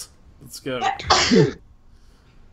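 A single loud, close sneeze bursts out sharply, and a brief spoken phrase comes just before it.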